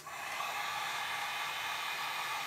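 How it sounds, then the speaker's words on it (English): Steady, loud whoosh of a hair dryer blowing on high, heating a velcro holster wedge, a constant airy roar with no pauses and no voices. "You can use a heat gun on low or a hair dryer on high."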